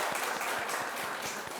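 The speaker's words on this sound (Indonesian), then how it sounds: "Tepuk tangannya dong" A room of children claps together in a dense, lively burst of applause that is loud and close and lasts the whole short moment.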